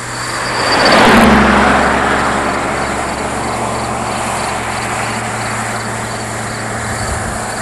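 A car approaches and passes close by on a road, its swelling rush peaking in the first seconds before settling into a steady roar of traffic and low engine hum, with no voices.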